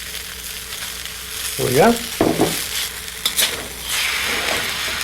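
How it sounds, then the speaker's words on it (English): Vegetables slide into a hot pan for fried rice, setting off a loud, steady sizzle with a few clanks of the pan, while someone speaks briefly over it. "Let's grab our veggies here and slide them in."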